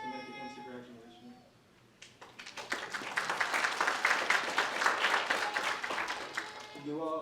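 Adult education graduates clap for themselves at a December graduation ceremony, a loud sustained burst of many hands that swells after a brief voice at the start and runs for about five seconds before fading.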